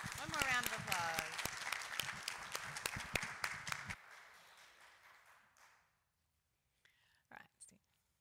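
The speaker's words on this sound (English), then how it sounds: "One more round of applause." A church congregation at a Sunday worship service gives a loud, dense round of applause lasting about four seconds, then it thins to a scatter of claps that fade out, followed by quiet and a few faint knocks.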